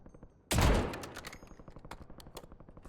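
Heavy gunfire in the video game Warzone: one loud, close blast, then a rapid, steady stream of sharp shots that fades slightly but keeps rattling to the end.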